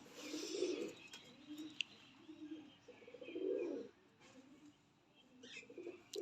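A breeder pigeon gives soft, faint coos in a few separate bursts against a quiet background, with light rustling in between and no talk.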